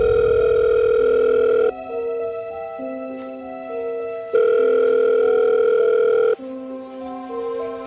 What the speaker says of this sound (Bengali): তিনি তখন আরিফকে ফোন করেন